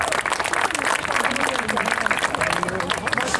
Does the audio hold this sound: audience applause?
yes